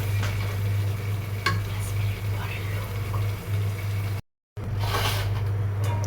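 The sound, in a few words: beef being stirred while frying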